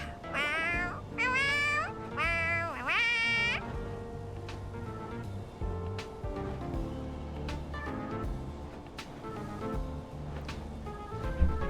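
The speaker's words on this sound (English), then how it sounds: "Isn't it meowing?" A small creature of sentient food in the game Honkai: Star Rail meows several times in a row, high and clear over soft background music, and then the music continues alone.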